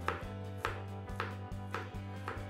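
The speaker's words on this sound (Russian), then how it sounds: "А пока тонко нарезаем чеснок 3-4 зубчика" A knife thinly slicing garlic cloves on a cutting board, five crisp evenly spaced chops about half a second apart, close and clear with no talking.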